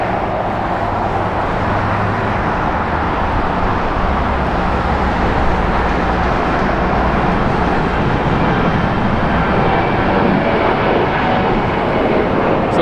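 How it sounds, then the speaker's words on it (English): A United Airlines 737 departs LAX toward Las Vegas, its jet engines giving a loud, continuous roar with a low rumble underneath, sustained throughout without speech. "Looks like that was United Airlines headed to Las Vegas"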